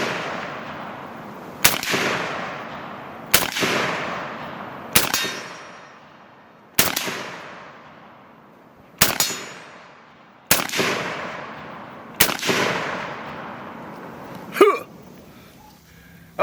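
Eight loud, sharp shots from an FN49 8mm battle rifle fired one at a time at a shooting range, with long ringing echoes, spaced a couple of seconds apart.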